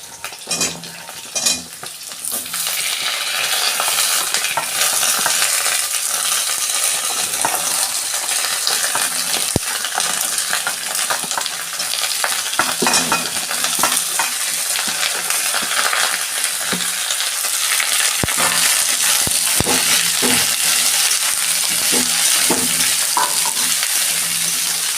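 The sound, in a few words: vegetables and green chilli frying and stirred for khichuri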